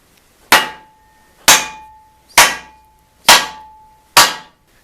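Five hard, ringing metallic smacks land about a second apart as a tool head is hammered down onto a new shaft by hand, each close and loud with a short decaying ring.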